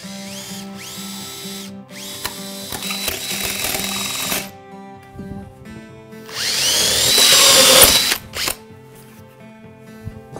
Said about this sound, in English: the smaller you go with the holes, the more easier it will be to drill